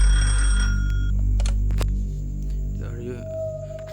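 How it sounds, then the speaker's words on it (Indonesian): A telephone rings in a horror video game set in a hotel, a brief electronic ring over a heavy low hum, followed by softer tones. "Kita disuruh mengangkat telepon ya guys."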